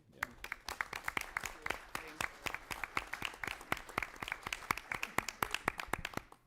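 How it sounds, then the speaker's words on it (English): A small group claps at a planning commission meeting, a steady patter of individual handclaps rising and falling for several seconds, fairly quiet and close-sounding with a few voices murmuring underneath. "I just had a request that we give a round of applause."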